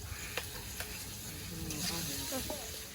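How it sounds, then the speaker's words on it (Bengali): Fish roe sizzles steadily in hot oil in a kadai alongside fried brinjal, potato, cumin, turmeric and salt, with occasional stirring clinks and scrapes over the continuous frying hiss. "এবার মাছের ডিমটা দিয়ে দেবো"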